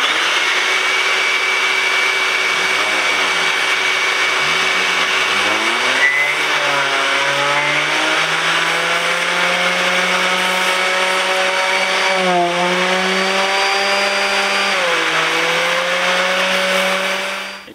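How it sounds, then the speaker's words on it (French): An orbital sander and a vacuum cleaner run together, cleaning sand and fibres out of a car floor mat. The drone is loud and continuous throughout, with whining tones that rise and fall as the tools are pushed and moved. "Je vais combiner maintenant et la ponceuse et l'aspiration."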